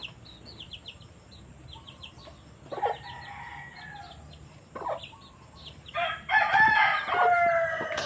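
Chickens cluck softly in the background while a rooster crows several times, with the crows growing louder toward the end, outdoors near chicken feed, with no talk.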